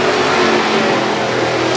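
WISSOTA Midwest Modified race car on its final lap at Granite City Speedway, a loud, steady engine roar with a sustained droning pitch that stays constant throughout, close and unaccompanied by voices.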